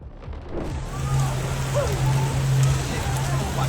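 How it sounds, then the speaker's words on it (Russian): Heavy rain from an atmospheric river storm in California pours down steadily in a loud, continuous wash, with a low engine-like hum underneath throughout. "Вызванная атмосферной рекой стихия принесла в регион проливные дожди, снегопады, оползни и транспортный хаос по всему штату."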